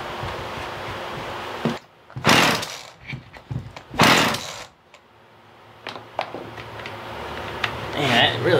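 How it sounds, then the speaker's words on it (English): An older Husqvarna 50 Rancher chainsaw engine idles roughly, then revs up in two sharp, loud bursts before dropping back and sputtering. "This is an older chainsaw too."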